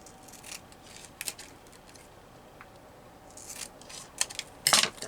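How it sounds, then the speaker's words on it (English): Scissors cutting a paper label during junk journaling, heard as a few soft, scattered snips close by that end in a sharper, louder burst of cuts, with no talk. "now I'm going to have to cut this down."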